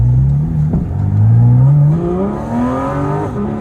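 A Porsche GT4 RS engine pulls hard under acceleration, its loud, rising howl climbing steadily through the revs with a brief shift-like break, heard up close from inside the car.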